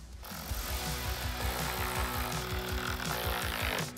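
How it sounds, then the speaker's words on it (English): Four nuts being tightened back down by hand during an automotive part install, heard as a steady run of close, repeated rapid ratcheting clicks with no talk. "Now just go ahead and take those 4 nuts and tighten them back down."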